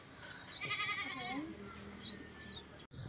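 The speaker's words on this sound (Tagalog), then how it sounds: "Masisipag sila mag-alaga ng kambing." Goats bleat in a rural village in La Union, Philippines, several wavering calls close by, mixed with bird chirps and a faint voice in the background.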